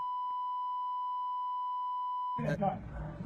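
A long steady censor beep tone holds for over two seconds, then cuts off as a voice begins speaking.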